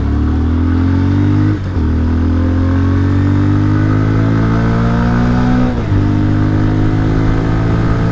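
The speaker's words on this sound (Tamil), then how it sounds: "ஆனால் பல்சர் 125ஓட எக்ஸாஸ்ட் சவுண்ட் வந்து எனக்கு பிடிச்சிருக்கு" A Bajaj Pulsar 125 BS6 motorcycle engine and exhaust run close by at a steady, throaty idle, with two brief blips of throttle lifting the note slightly.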